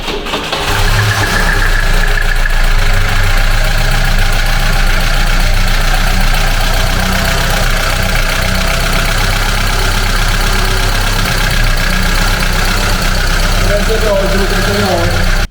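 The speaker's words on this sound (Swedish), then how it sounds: "nu går bilen som den ska igen" A classic Volvo car engine idles steadily and loudly, close up, just after an ignition service, with an even running note throughout.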